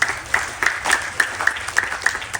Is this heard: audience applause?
yes